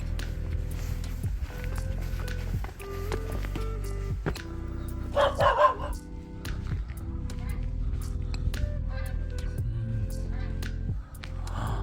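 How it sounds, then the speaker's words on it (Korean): Seagulls squawk and cry several times at Hwaam Seowon in Boryeong, one burst of harsh calls standing out loudly amid a busy outdoor background. "갈매기들이 울고 있네요"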